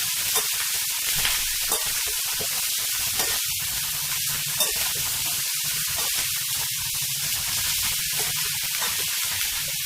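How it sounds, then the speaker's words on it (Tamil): Brinjal and chopped onion sauté in a pan for a traditional kathirikai kothsu, giving a steady, close sizzle and hiss that runs the whole time with soft stirring scrapes and no talking. "கத்திரிக்காயும் வெங்காயமும் வதங்கிட்டு இருக்கு"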